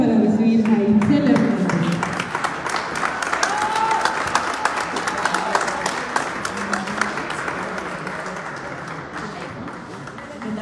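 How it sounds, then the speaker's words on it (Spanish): A crowd in Garibaldi welcomes performer Itzel Hernández with loud, sustained clapping at a tribute to María de Lourdes. Voices and cheers ring out early, then the applause slowly thins and fades. "Y el aplauso para recibir a Itzel"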